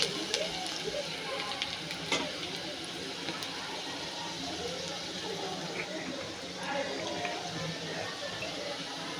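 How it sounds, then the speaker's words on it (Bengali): Whole cumin seeds fry and sizzle in hot oil in a pan as they are stirred, a steady close hiss with occasional scraping clicks from the stirring. "গোটা জিরা দিয়ে এটা সুন্দরভাবে কিছুক্ষণ নাড়াচাড়া করে নিলাম।"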